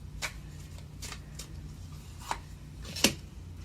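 Tarot cards being shuffled and drawn during a reading, a few soft papery riffles and snaps spread through a quiet room, with one sharper card slap near the end over a low steady hum.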